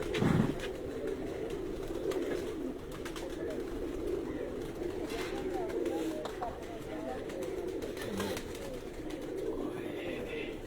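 Pigeons on a rooftop coo softly and repeatedly over a steady outdoor background, with people talking at times.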